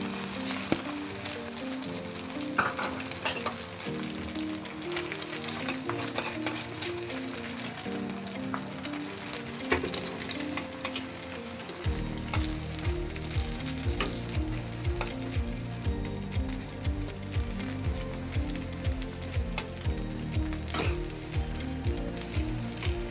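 Egg frying in a pan over fried eggplant for an Iranian-style party dish, giving a continuous close crackling sizzle with a louder, denser burst of spitting about halfway through.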